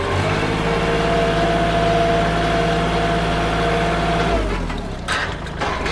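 A Kubota L3608 tractor engine runs steadily close by with a deep, even drone, its tone dipping and wavering near the end as gears are shifted.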